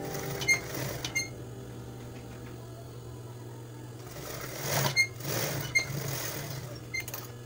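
A sewing machine stitches fabric scraps into a doormat, running in bursts of mechanical whirring and rapid clatter over a steady low motor hum, with brief pauses between runs.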